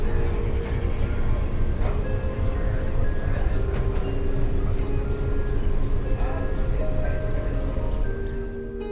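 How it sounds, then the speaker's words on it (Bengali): The Kanchanjungha Express pulls out of Sealdah station, a continuous low rumble and rattle of the moving train with faint tonal squeals and hums, steady and fairly loud from start to finish. "আমাদের ট্রেন শিয়ালদা থেকে ছেড়ে দিল"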